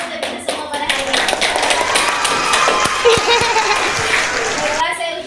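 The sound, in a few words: group applause at end of session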